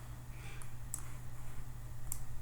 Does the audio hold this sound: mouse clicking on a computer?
yes